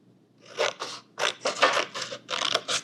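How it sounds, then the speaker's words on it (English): Scissors cutting a triangle out of paper for a craft raccoon head, a run of close, crisp snipping and crunching strokes in quick bursts with brief pauses, with no talking. "So let's cut out that triangle."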